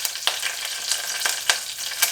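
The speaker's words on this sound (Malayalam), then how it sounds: "ഞാൻ ഇതിലേക്ക് ഒരു 2 വറ്റൽമുളക് ചേർത്തത് ആഡ് ചെയ്ത് കൊടുക്കുകയാണ്. അതുമാതിരി കുറച്ച് കറിവേപ്പില." Two dried red chillies and a handful of curry leaves fry in hot oil for a Kerala chicken curry, giving a steady close sizzle broken by sharp crackles and pops every fraction of a second.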